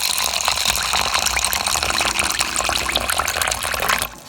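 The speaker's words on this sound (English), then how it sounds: "Pour in the water." Water pours steadily into a measuring container for macaroni and cheese, a continuous close splashing gush that stops abruptly near the end.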